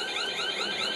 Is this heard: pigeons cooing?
no